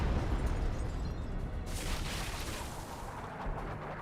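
Artillery shells bursting in the Company of Heroes strategy game, a dense continuous rumble of low booms and crackling blasts, fairly loud and steady for the whole stretch, with a brighter burst near the middle.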